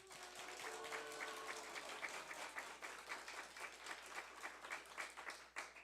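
A church congregation applauds together after a member is appointed as a teacher during a New Year thanksgiving service. The clapping is faint and distant, with an uneven patter that thins toward the end.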